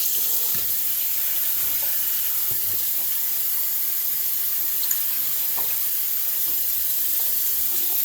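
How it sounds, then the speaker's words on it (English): Tap water runs steadily over vegetables in a strainer while a pork sinigang is being cooked, giving a constant close hiss and splash with faint clinks and no talking. "we're gonna rinse our vegetables"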